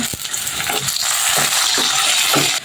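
Whole cardamom, cinnamon sticks and bay leaves hit hot oil in a pan, producing a loud, close, continuous sizzle with a few small crackles and stirring clicks scattered through it and no voices.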